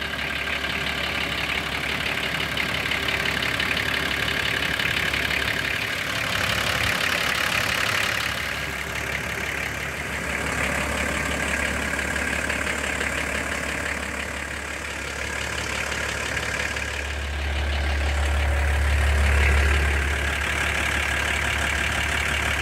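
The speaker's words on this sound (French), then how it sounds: "Bon, j'ai démarré le moteur pour voir avec les vibrations et tout ça." A vehicle engine runs at idle just after an oil change, holding a steady mid-pitched hum for over twenty seconds with a brief deeper rumble near the end and no voices.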